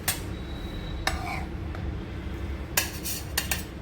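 Pieces of wheat kapnya dough are set onto a metal plate, giving a few sharp clinks and light metallic taps spread unevenly across a soft kitchen background.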